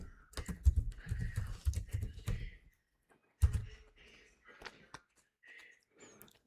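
Keys tapped on a computer keyboard to enter a network renew command, a quick burst of close clicks for about two seconds, then a pause and a few sparser taps.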